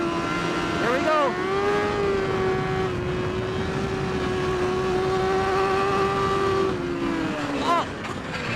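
A superbike engine accelerating during a race, heard as a loud, close, sustained high-pitched engine whine with a few quick pitch sweeps as it revs and shifts.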